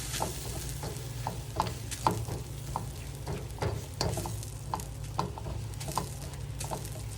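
Fried rice with sesame oil being stirred in a pan, a soft steady sizzle beneath repeated scraping strokes of the utensil at a moderate, regular pace, fairly quiet and without talk.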